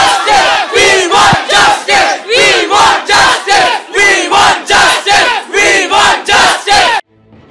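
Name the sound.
law students chanting We Want Justice slogan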